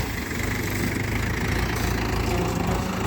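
A tractor engine idles by a lakeside garbage dump, giving a steady, continuous mid-pitched rumble with even vibration throughout, fairly close and with no talk over it.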